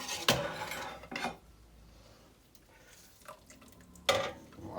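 A cooked skate wing is lifted out of a pot of court-bouillon: a few clinking scrapes of a utensil against the pot, one sharp near knock at the start and another later, with quiet gaps between.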